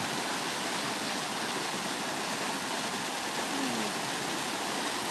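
Clear water of a stream flowing steadily with a continuous broadband rush, close and even throughout, with no voices.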